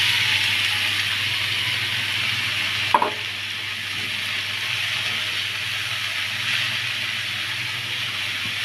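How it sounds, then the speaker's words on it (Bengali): Carrots frying in a pan for carrot halwa give a soft, steady sizzle with one sharp clack of a utensil partway through. "গাজরটা একটু ভাজা দিয়ে নেব"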